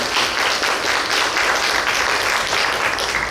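Steady applause from a church congregation during a Sunday worship service, dense clapping filling the room evenly for several seconds without a break.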